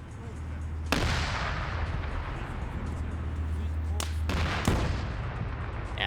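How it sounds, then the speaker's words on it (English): Tank gunfire in a video game armor battle with T-55 tanks: a continuous rumbling battle bed with two heavy booming shots standing out a few seconds apart, and someone talking over it. "Yeah, they're firing back now."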